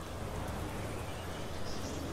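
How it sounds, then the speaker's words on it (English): Steady rain in Euro Truck Simulator 2, a dense even hiss of falling drops with a faint low rumble beneath, continuous and unbroken, no voices. "It's raining"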